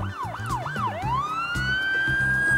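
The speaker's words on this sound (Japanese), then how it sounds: "パトカーいるね" A toy Tomica police car siren wails in quick rising and falling sweeps, then settles into a long, steady rising tone, loud and close with a buzzy electronic edge.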